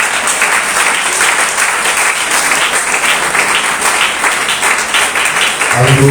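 A church congregation applauds during a sermon, loud sustained clapping filling the room continuously, with a faint voice rising near the end.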